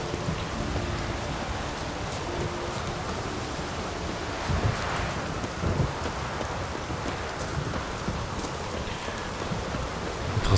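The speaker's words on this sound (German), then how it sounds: "Es wirkt ziemlich frostig, mit dem Regen dabei noch frostiger." Steady rain falls in The Witcher: Wild Hunt, a constant soft hiss of drops with a faint low rumble underneath, unbroken throughout.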